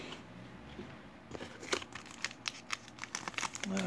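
The foil wrapper of a KBO baseball card pack is cut open, heard as faint crinkling that turns into a run of sharp snipping and tearing crackles, up close with no talk.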